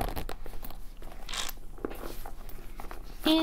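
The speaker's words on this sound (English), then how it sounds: "Let's see if it zips up." A zipper is drawn closed on a pastel pink Gucci Marmont mini crossbody bag, giving close, scratchy crunching strokes with brief rustles in a quiet room.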